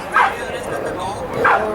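A German Shepherd in protection training giving two sharp barks or yelps about a second apart, close by, with voices and crowd noise running underneath.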